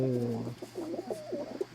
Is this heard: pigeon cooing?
yes